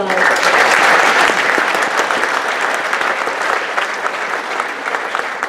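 A dense, loud round of applause from a banquet audience at an FFA event, sustained throughout and easing slightly toward the end.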